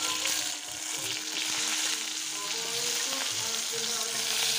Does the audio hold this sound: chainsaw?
no